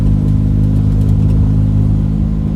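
A car driving on a road on a hot day, with a steady, loud engine drone and continuous low road rumble from inside the cabin, without a break.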